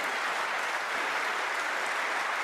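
Snooker crowd at the Players Championship applauding steadily after a century break, a dense, even wash of clapping throughout with little else beneath it.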